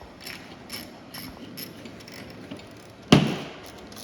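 A wrench snugs up the fittings on a reattached Beckett oil burner fuel pump. Soft, quick ratcheting clicks lead into one sharp metallic clank near the end, all close by and with no talk.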